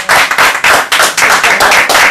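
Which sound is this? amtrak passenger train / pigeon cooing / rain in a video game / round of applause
round of applause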